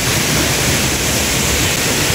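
Dolo waterfall on the slopes of Mount Wilis, Kediri, roars as a dense, steady wash of falling water, loud and continuous with no voices.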